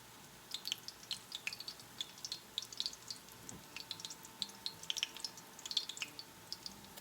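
Fried bread batter sizzles in hot oil, a faint, steady crackle of small popping bubbles scattered irregularly over a soft background hiss, with no one talking.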